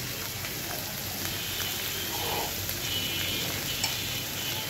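Oily catla fish belly fries in a pan with a soft, steady sizzle and occasional faint stirring scrapes, heard close and fairly quiet with no talking.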